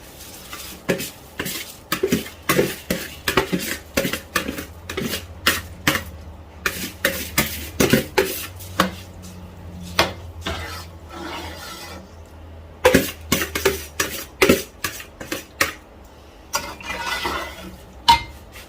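Soaked rice tipped into a cooking pot and stirred for Afghani mutton pulao, with repeated sharp scraping and clinking of a spoon against the metal pot in an uneven rhythm, close and fairly loud, no voices.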